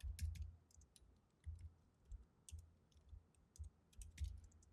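Fairly quiet typing on a computer keyboard: quick clusters of crisp key clicks come in irregular bursts separated by short pauses, with no voices.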